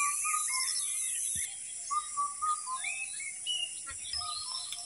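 Bulbuls perched together near a flowering tree give short, bright chirps in irregular bursts. The calls are moderately close and come over a quiet outdoor background with faint insect hum.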